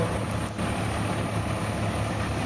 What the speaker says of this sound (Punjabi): ਟਰੈਕਟਰ ਦੀ ਪੂਰੀ ਵੜਕ ਪੈ ਰਹੀ ਹੈ